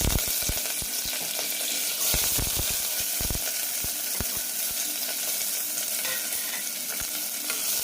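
Onion, green chili, garlic and curry leaves sauté in oil in a pressure cooker, a loud, continuous close-up sizzle broken by repeated scraping taps of a stirring spoon.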